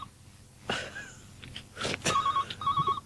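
A telephone sound effect rings in two short electronic trilling bursts near the end, following a few soft knocks and rustles.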